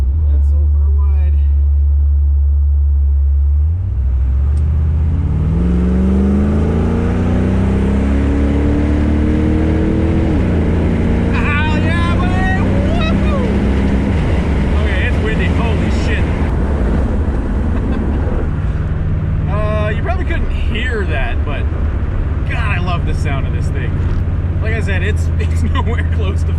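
A V8-swapped 1986 GMC S15 Jimmy accelerates hard, its loud, close engine roar climbing steadily in pitch through the gears and holding a heavy rumble to the end.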